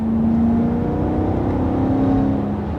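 A BMW E92 M3 engine revs in a smooth, sustained pull with a rising whine, heard close and loud with no one talking.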